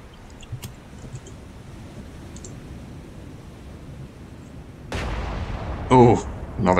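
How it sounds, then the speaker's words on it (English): A naval gun fires in the War on the Sea game: a quiet low rumble and a faint earlier thump, then a sudden loud cannon blast that rolls on, followed by a brief game tone and more booming. "Oh, another cannon shot."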